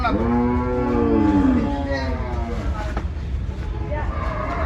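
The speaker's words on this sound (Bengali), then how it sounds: "আরও একটি ছোট মহিষ কিন্তু দেখছেন আকাম ভাই" A water buffalo lets out a long, loud, low moo nearby at the Gabtoli cattle market in Dhaka, followed by background chatter and general market noise.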